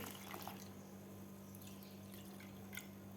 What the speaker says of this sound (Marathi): मी इथे एक वाटी मैदा घेतलेला होता तर दीड वाटी पाणी घालायचं आपल्याला यामध्ये